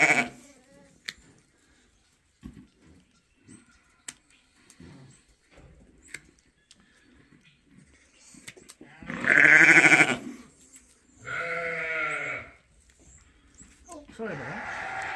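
Ewes bleat loudly in a few drawn-out calls while being sorted and having their hooves trimmed on a sheep farm, with people talking and handling noise throughout.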